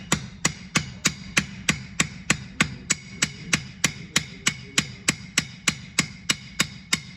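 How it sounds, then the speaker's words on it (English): Hammer peening a rivet on a frame handle, striking the middle and working outward in a circle: about twenty sharp, evenly spaced metallic blows, close and steady, with no talk. "my goal is to hit the middle, and then I'm just working out in a circle"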